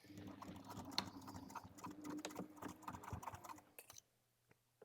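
Sewing machine stitching vinyl with foam interfacing at a slightly longer stitch length for a bag, a busy rapid mechanical chatter for about four seconds that then stops, leaving quiet with a few small clicks.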